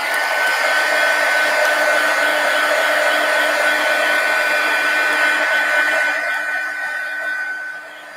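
A hair dryer runs steadily while drying a mixed media collage of a pumpkin, a loud close whirring hum that holds constant before easing off near the end.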